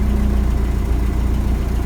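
A 1985 Toyota pickup engine idles steadily at close range, a low, even rumble with no voices.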